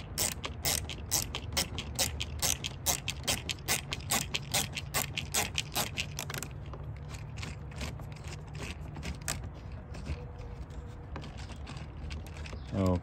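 Dense ratcheting clicks from a screwdriver fitted with a T15 bit backing out a screw on an S550 Mustang side mirror, quick steady ticking for several seconds, then slower scattered clicks, close and moderately loud.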